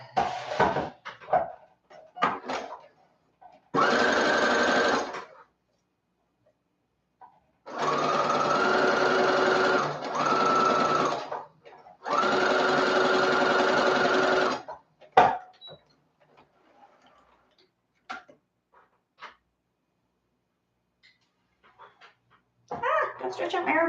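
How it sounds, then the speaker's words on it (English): Basting stitches on a dress are sewn by a sewing machine in several loud, steady bursts of a few seconds each, separated by pauses filled with handling clatter and bits of talk. "I'm just doing a basting stitch for the top."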